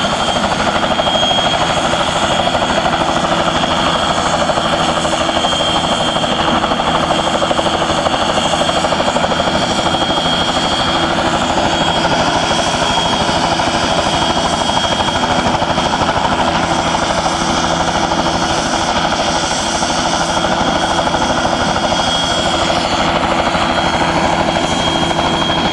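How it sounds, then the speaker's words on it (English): A helicopter takes off at Pensacola Dam, the rotors and engine roaring loudly and steadily close by with a fast beating thrum throughout. "There he goes. Oh, yeah. We have takeoff."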